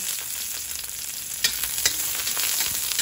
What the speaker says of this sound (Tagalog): O, magigisa na tayo. At atin yung oil nandito. Konting oil lang talaga sa paggisa ng ating gulay.